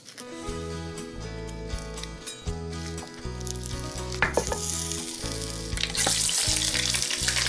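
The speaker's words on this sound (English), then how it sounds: "Now this is on high heat and it's already smoking. So I just want to get my short ribs in there." Short ribs sear in a smoking-hot pan on high heat, a loud steady crackling sizzle that swells and intensifies toward the end, with a few scrapes and bumps as the meat goes in, under background music.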